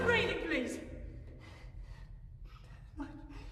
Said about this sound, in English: Just stop breathing loud.